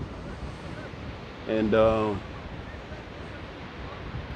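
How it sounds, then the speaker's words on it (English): An outdoor breeze blows steadily as low, broadband wind noise buffeting the microphone throughout, with someone speaking briefly in the middle. "catching that breeze."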